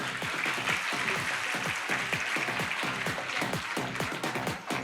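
An audience at a fashion award show applauds a winner with dense, continuous clapping that stays loud and even throughout.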